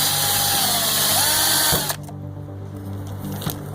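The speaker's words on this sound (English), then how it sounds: "turn the drill around until it reams it out, and that breaks it right loose" A power drill whines loudly and steadily while reaming out a plastic part, then cuts off abruptly, leaving a quieter mechanical hum and a couple of light knocks.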